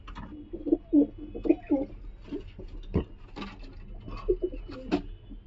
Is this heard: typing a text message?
no